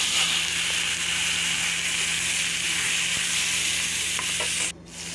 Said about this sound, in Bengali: ফোড়নটা ভালো করে ভেজে নিয়ে দিয়ে দেবো আমরাগুলি।